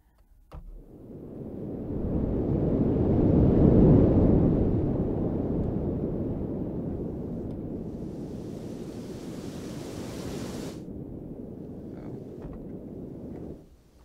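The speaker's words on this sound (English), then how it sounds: "I know I'm going to start with the middle wind, the beefy one" A beefy synthesized wind sound effect made for a game swells into a steady broad rush, peaks early, then holds with an airy hiss layered on top before cutting off abruptly near the end.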